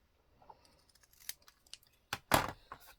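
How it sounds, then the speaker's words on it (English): Scissors snip paper while a fold-and-tuck journal booklet is trimmed, a few quiet scattered cuts building to a louder, sharper pair of snips near the end, close by with no talk. "on this side and cut this part off"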